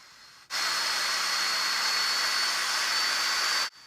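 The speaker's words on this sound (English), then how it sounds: "Yep, that's definitely a plane." Plane flying close overhead, a loud steady broadband roar that starts abruptly and holds evenly for about three seconds before cutting off.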